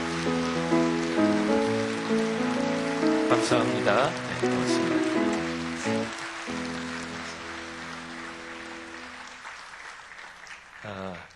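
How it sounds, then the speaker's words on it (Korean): A church congregation applauds to welcome a professor as flowers are handed over, sustained steady clapping that fades toward the end while someone speaks brief thanks over it and music plays underneath. "박수 한번 해주십시오"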